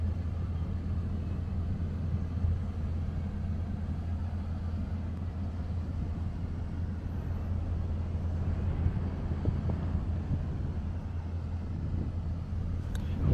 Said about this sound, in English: Whoa! There's a gust of wind there.